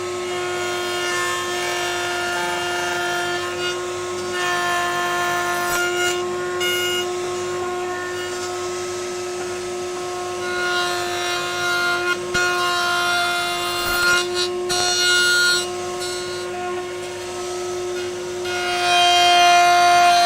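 A hand saw rasps steadily through wood while cutting dovetails, the continuous strokes running close and fairly loud, accompanied throughout by a persistent high tonal hum.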